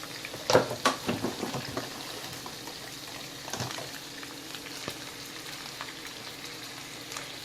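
Chicken and spinach sizzle softly in a skillet, with a few sharper pops and crackles near the start and a quiet, steady frying hiss beneath.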